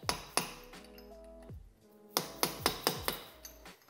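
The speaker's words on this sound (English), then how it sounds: "I gotta use a punch and a hammer to bend this tab down." Sharp metallic hammer strikes on a punch ring out up close, bending a metal tab on a Honda CB350 engine clutch: a couple at first, then a quick burst of five or six taps with brief ringing tones.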